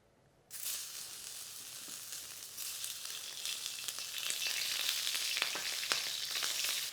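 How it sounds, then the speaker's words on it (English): Blanched pork belly hits a hot wok and starts sizzling abruptly, fat spitting and crackling in a steady, loud fry that grows denser and more intense with sharp pops throughout. "So I'm going to start by frying off the pork belly before I do anything else."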